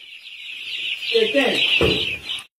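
About a thousand five-day-old imported chicks cheep in a heated brooder, a dense, continuous high chorus of peeping, with a low voice briefly speaking over it before it cuts off.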